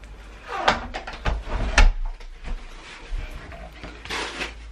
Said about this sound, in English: Okay, let's close the door now. I'm gonna close the door.